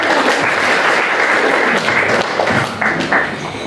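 Sustained applause from an audience at a public town-hall style meeting with a regency head in West Biak, steady dense clapping throughout, fairly close, with brief dips and swells near the end.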